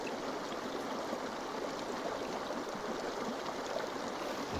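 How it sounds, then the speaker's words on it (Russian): A little petrol is poured onto dried dung fuel for a campfire: a steady, soft liquid trickle that runs continuously at close range with no voices. "Поэтому берем и наливаем чуть-чуть бензинчика."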